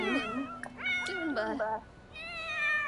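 A cat meows several times in quick succession, with rising and falling drawn-out calls, close and clear, heard over light background hiss during a Sims 4 gameplay session.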